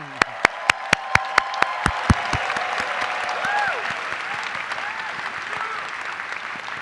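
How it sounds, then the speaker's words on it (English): Audience applause at a university dentistry commencement ceremony, opening with a string of sharp, loud claps close by and swelling into a full, steady round of clapping, with faint cheering mixed in. "Let's give them a round of applause."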